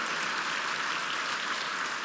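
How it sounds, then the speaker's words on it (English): A brunch crowd at a charity fundraiser gives a round of applause, a dense wash of clapping holding steady and fairly loud from start to finish. "I'd also like to have one big round of applause for our floor event team"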